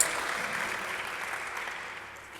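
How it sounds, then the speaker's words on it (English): Soft, distant applause from an audience at a university media society launch tapers off over about two seconds. "Can we just give a round of applause again to our media communications manager"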